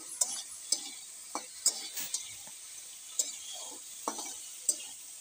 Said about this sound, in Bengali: এবার আলুটা ভালো করে নেড়ে চেড়ে ভেজে নেব, যতক্ষণ গলে না যায় ততক্ষণ ভেজে নেব।